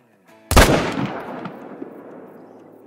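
A single loud M1 rifle shot fired at a whitetail buck about 280 yards out in the hunting game Call of the Wild, a sharp crack followed by a long rolling echo that fades out.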